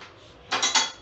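Metal pot set down on a ring inside a pressure cooker holding water for mixed dal, a quiet scrape followed by two close metallic clanks of pot against metal.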